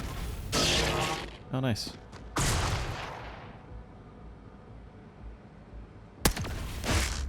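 Shotgun blasts in the turn-based strategy game Xenonauts 2 during a base defense fight: several loud, close booming shots with echoing tails, spaced a second or more apart, with a player briefly speaking between them.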